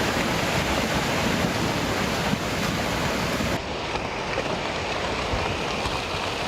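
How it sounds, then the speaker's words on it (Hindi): A hillside landslide sends rocks, mud and debris flowing like water onto a road in Rudraprayag, Uttarakhand, a dense, continuous roaring rush that stays loud throughout with no voices. "पहाड़ का हिस्सा खिसकने से पत्थर और मिट्टी के साथ मलबा पानी की तरह बहता दिखा"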